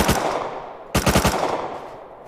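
Automatic gunfire in the survival game Rust: a loud rapid burst, a short pause, then a second close burst of quick shots that trails off into echo.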